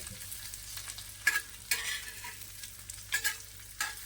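Egg masala for dhaba-style tava anda masala stir-fried on a tawa: a low steady sizzle broken by four or five sharp spatula scrapes and stirs at irregular intervals, close and alone with no voices.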